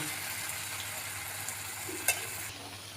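Malpua fries in hot oil in a pan, giving a steady close sizzle with a brief spatter or stir, and nobody talking.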